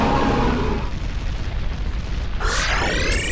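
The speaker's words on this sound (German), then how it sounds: "Ist das Vieh explodiert?" A deep rumbling boom fades out, followed by a sharp burst of bright, sweeping synthetic effects: an explosion in Pokémon Mystery Dungeon: Explorers of Sky.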